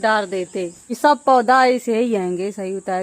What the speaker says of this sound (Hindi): ये झींगुर की आवाज सुनो